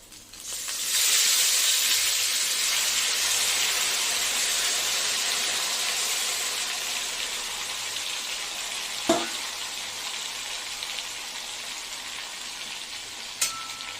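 Marinated chicken dropped into a hot blend of white oil and mustard oil with tempering spices, a loud hissing sizzle that swells quickly and then settles into a steady frying hiss, with a couple of sharp utensil clinks.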